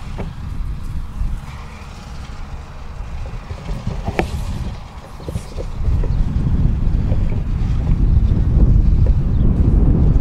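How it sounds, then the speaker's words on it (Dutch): Strong wind sweeps across an open corn field and buffets the microphone in gusty, rumbling bursts, growing heavier and more constant midway through. "het is nogal knap winderig"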